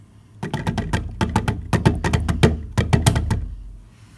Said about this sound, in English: Now these containers are empty and they sound like this.